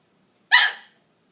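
A single sharp hiccup, close and fairly loud, a short burst that fades within half a second in an otherwise quiet room.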